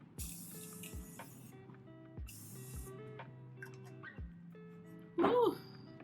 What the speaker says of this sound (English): I'm going to be spraying my face with the Morphe Continuous Mist.